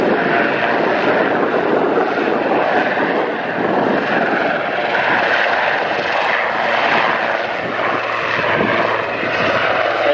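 A military aircraft flies over the Wings Over Wairarapa airshow with a loud, sustained engine roar that holds steady throughout, close and dominant, with an announcer speaking faintly beneath it.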